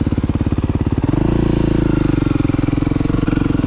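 A motorcycle engine idles with a fast, chugging pulse, then revs up and holds at a higher, steady pitch close by, with no voices over it.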